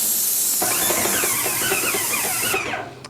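Paint sprayer misting white primer onto a garage, a steady loud hiss running for about two and a half seconds before cutting off, with faint rhythmic clicking beneath the spray.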